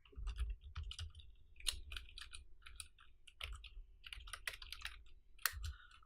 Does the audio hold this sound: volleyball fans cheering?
no